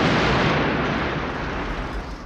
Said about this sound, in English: which the Colonel blows up with a rocket launcher